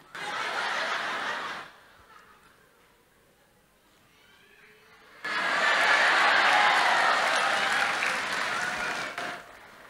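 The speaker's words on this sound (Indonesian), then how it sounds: "Tepuk tangan buat apa itu?" Audience applause at a church youth revival service, a burst of clapping that fades out, a quieter lull, then a second louder, sustained round of clapping from the crowd.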